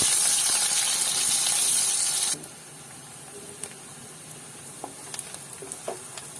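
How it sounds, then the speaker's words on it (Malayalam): Large onions sautéing in a pan for a homestyle fish curry give a steady loud sizzle for a couple of seconds, then drop to a quieter simmer with scattered small pops and crackles. "ഈ വലിയുള്ളി നന്നായിട്ടൊന്ന് വഴറ്റിയെടുക്കണം."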